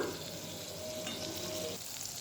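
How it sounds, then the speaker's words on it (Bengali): Fish oil, rendered from fish, fries under a lid in a covered pan, giving a steady, quiet, even sizzle with no talking over it. "এবারে আবার চাপা দিয়ে দিচ্ছি ভালো করে ভাজার জন্য"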